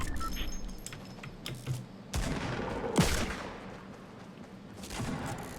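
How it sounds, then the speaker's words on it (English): Sharp gunshots from a pistol crack out in the Fortnite video game during a large 50 versus 50 match, a few irregular reports with one prominent loud shot amid softer game noise. "This guy seems to be having a lot of fun with his little pistol."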